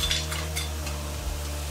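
Ginger-garlic paste masala frying in a pan for crab curry, a steady close sizzle with occasional stirring scrapes over a constant low hum, no talking.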